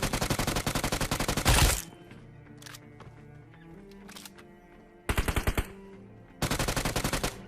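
Automatic gunfire hits an enemy in PUBG Mobile. Rapid, loud bursts open the clip, go quiet with faint game sounds in between, then return as two more sharp rattling bursts.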